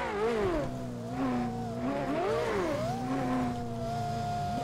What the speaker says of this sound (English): Oh, did you guys see the LFA sound?